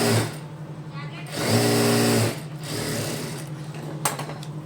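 A sewing machine stitching puff sleeve frills: short bursts of rapid mechanical whirring that start and stop, with a person speaking between and over the runs.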